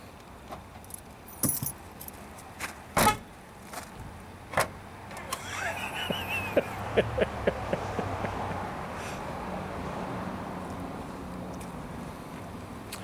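Car keys jangling and handled around a car's trunk, with sharp metallic clinks and several door or trunk thuds early, then a steady low hum of the vehicle; no talking.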